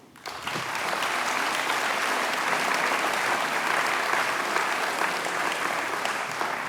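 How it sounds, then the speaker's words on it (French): Sustained audience applause for a village band at a public New Year's wishes ceremony in a hall, beginning abruptly and continuing steadily and loudly throughout. "On peut les applaudir."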